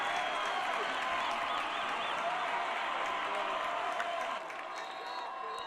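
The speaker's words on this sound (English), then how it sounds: "Homecoming crowd trying to spur their DeWitt Panthers to a stop" The homecoming crowd at a Grand Ledge vs DeWitt high school football game cheers and claps for the DeWitt Panthers, a loud, continuous roar from the stands that eases slightly toward the end.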